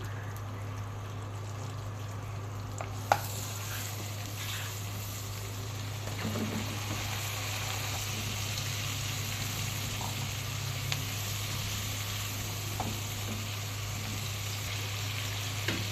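Chopped onion and a little chili fry in a pan, giving a steady, even sizzle with a few faint clinks across the whole stretch, close and moderately quiet, with no voices.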